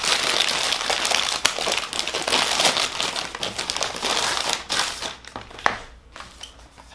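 Crinkly plastic packaging for a wrist rest made for 60% keyboards is torn and crumpled open at close range, a dense, continuous rustle and crackle for about five seconds before it thins out into scattered handling noises.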